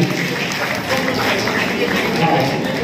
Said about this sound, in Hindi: एक बार इन संगठन के रत्नों के लिए जोरदार ताली हो जाए, जोरदार ताली